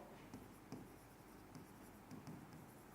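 Pen or chalk scratching out a maths solution on lines and angles, faint soft strokes and taps in a quiet room, no talking.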